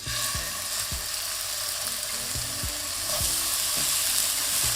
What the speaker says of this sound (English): Now when the pan is nice and hot, we're gonna start adding our lamb chops